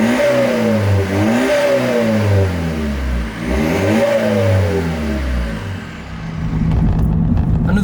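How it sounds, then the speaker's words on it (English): BMW E46 320d diesel with silencers removed and a sports catalytic converter, revved repeatedly in several rising and falling sweeps, loud and close, settling into a rough idle. "If you remove the silencers and install a sports cat, you can get the car to sound like this."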